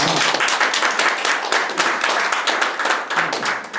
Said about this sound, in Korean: 이럴 때 박수 치는 거예요.